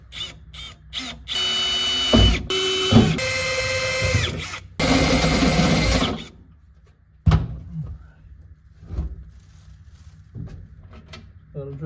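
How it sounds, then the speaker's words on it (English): A power drill whines in several bursts of a few seconds each, biting into metal, then stops, leaving scattered clicks and handling noises with a little talk. "be a little careful when you're drilling holes like this"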